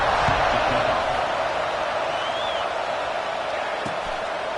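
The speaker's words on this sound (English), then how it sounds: "this crowd is buzzing after that last score" A football stadium crowd buzzes after a touchdown in a Nebraska vs Oregon game, a loud, steady roar of thousands of voices holding at one level for the whole stretch.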